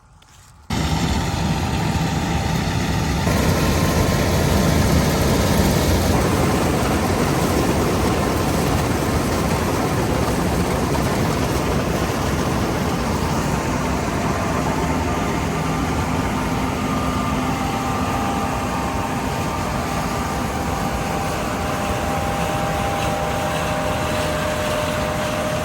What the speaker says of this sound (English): Should we go see how the combine's running?